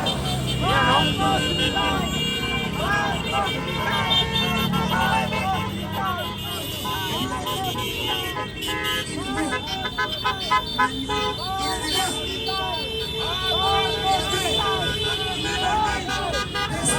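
Many car horns honk repeatedly and overlap in a busy roadside protest against corruption near Manila Bay, loud bursts over traffic noise while people talk and shout nearby.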